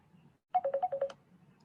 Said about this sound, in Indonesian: Maaf Bu, ada telepon ya.